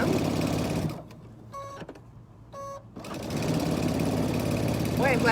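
Home sewing machine stitching a tea towel apron, heard as a steady whirring hum in a mid-clip stretch between passages of nearby talk.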